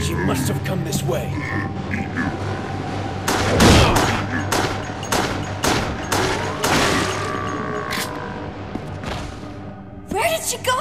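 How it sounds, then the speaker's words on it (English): Rapid gunshots in the video game Resident Evil: The Darkside Chronicles, a string of sharp, loud cracks with a heavy boom among them, mixed with game sound effects and music. "A gunshot! Back there!"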